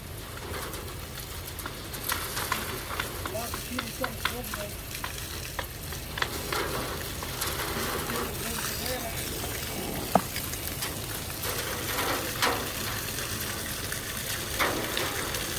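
A pickup truck is washed with a water spray after a drive over laterite and crushed stone, giving a steady hissing spatter with scattered splashes and knocks while birds coo and people talk nearby.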